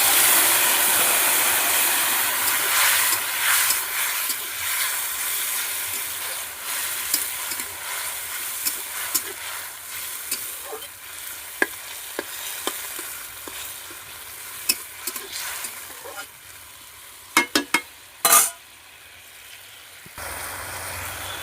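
Boiled eggplant, potato and other vegetables frying in a pan as they are stirred, a steady bright sizzle with scraping stir strokes and a few sharp utensil clacks near the end.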